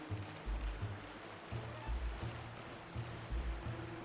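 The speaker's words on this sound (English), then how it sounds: "which activates the water flowing down" Flowing water in The Legend of Zelda: Twilight Princess, a steady broadband rush with soft, repeated low surges pulsing beneath it, fairly quiet and without talk.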